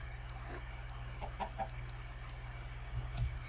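Chickens cluck in Minecraft in a series of short, scattered, fairly faint clucks over a steady low background hum, with no talking.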